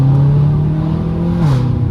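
BMW M6 Gran Coupe with its S63 engine revving loudly at close range, a steady low drone that rises in pitch near the end, with no talk over it.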